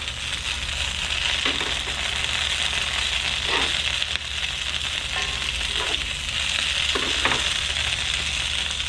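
Shishito peppers frying in hot oil give a steady, loud broadband sizzle with a few brief stirring scrapes and pops throughout, no talking.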